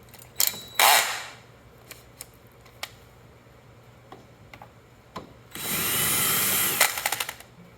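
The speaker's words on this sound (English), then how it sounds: "I don't mind using this because it's a drill, and who doesn't want to play with a drill?" A power drill backing screws out of a small 2-stroke engine during teardown: a short whir, scattered clicks and taps of parts, then a longer steady whine of a few seconds near the end, close by with no talking.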